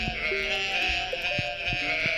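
Sheep bleats from Stardew Valley, a few short wavering calls repeating over a steady looping game backdrop with a bright sustained tone, fairly close and clear with no voices.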